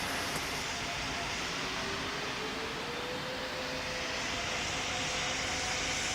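An airliner taking off in the Pilot Training Flight Simulator video game, a steady, broad engine roar and hiss with a slowly rising whine, even in loudness throughout, with no talk.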